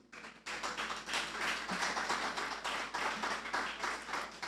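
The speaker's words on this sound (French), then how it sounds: "Monsieur Wolf Papillon, sous vos applaudissements" An indoor audience at a parliamentary talk event applauds steadily to welcome a speaker, dense close clapping sustained throughout.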